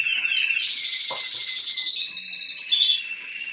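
Pet birds in a home aviary chirping and trilling continuously, with bright overlapping calls close by and no talking.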